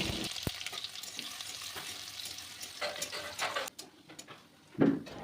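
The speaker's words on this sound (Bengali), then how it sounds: "কড়াই তেল গরম হলে শুকনো লঙ্কা গোটা সর্ষে আর থেতো করা রসুন দিয়ে হালকা ব্রাউন করে ভেজে নেব" Dry red chilies, whole mustard seeds and crushed garlic fry in hot oil in a kadai, a close sizzle under scattered pops and spoon scrapes, with a louder clatter near the end and no voices.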